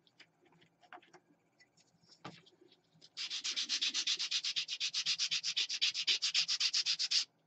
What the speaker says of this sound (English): That one's going to need a little bit of a sand.